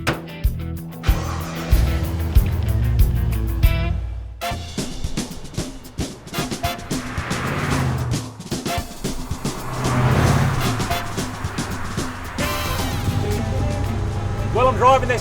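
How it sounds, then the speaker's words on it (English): An LS-engined 1948 Chevy pickup truck drives with a loud, steady engine roar and revving changes, while someone talks over it throughout. "Well, I'm driving this 1948 Chevy Pickup Truck."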